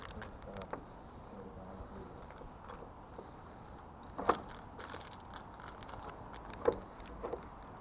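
A bunch of keys jangles in a room during a paranormal walk-through, with brief metallic clinks and rattles, two sharper bursts standing out, and faint voices and movement in the background.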